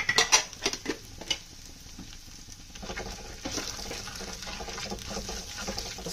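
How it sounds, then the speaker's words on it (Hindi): Tarkari for halwa puri slow-frying in a pan. A few utensil clinks and scrapes come first, then a steady, soft sizzle carries on alone to the end. "अब हम इसको स्लो स्लो फ्राई करेंगे"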